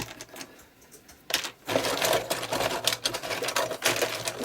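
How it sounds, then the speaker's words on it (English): Small screws of mixed slotted and cross heads clatter and rattle as a hand rummages to the bottom of a tub, a busy metallic jangle after a brief quiet start, close and fairly soft. "Just have to excuse the noise of me searching at the bottom."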